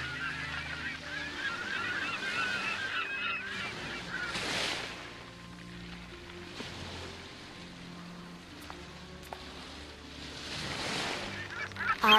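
Honking from a bird in the adventure game Chronicles of Mystery, set on a Mediterranean sailing scene, rises in a few loud nasal calls over a steady watery, creaking boat ambience and soft game music.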